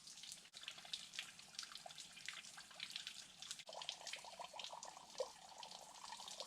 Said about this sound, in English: It takes a very, very long time to fill up a 4-liter container with trickling water.